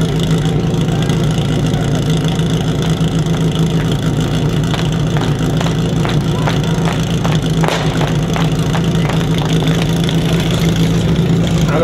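At the Žernovník hill climb in 2016, a race car engine idles loudly and close, a constant rough droning rumble with a steady pulse, alone and without voices for the whole stretch.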